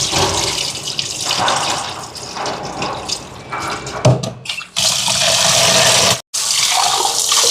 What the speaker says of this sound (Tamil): இந்த மாதிரி நல்லா கிளஞ்சு கழுவணும்.